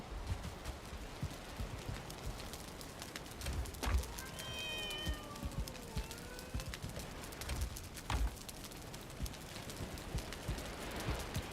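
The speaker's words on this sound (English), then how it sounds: "So there must be a number of cats outside the walls." Several cats meow in a Valheim game scene, a cluster of distinct, rising and falling meows in the middle stretch, set against steady ambient game noise with soft thumping footsteps.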